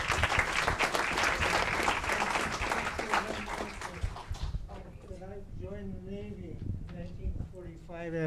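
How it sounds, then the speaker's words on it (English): Audience at a city committee-of-the-whole meeting applauds loudly and steadily for about four seconds, then the clapping stops and a voice speaks over a quieter room. "One more round of applause for Mr. Dick Miller."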